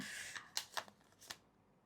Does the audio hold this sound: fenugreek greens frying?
no